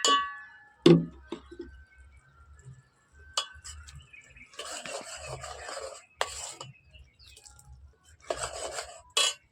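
Whole garlic curry with red chili powder stirred in a pan, a few scraping and rasping strokes of a spoon against metal with clinks, separated by near silence.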